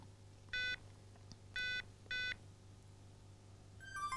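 Three short, loud DTMF keypad tones from a BellSouth Ericsson GH198 mobile phone dialing a landline area code, each a clean beep separated by brief pauses over a low steady hum.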